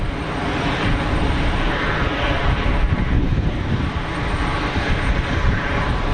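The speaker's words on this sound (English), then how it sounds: "the wind is coming back just as the BA is about to touch down" A British Airways airliner touching down at Geneva Airport, a steady loud roar of jet engines with gusting wind noise, constant and broadband throughout, no talk.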